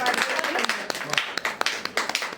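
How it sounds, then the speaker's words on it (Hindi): Scattered hand clapping from a small audience at a poetry gathering, a moderate patter of uneven claps mixed with some talking voices in the room. "मैं चाहती हूँ कि एक बार जोरदार आप लोग तालियां बजा दें सबके साथ।"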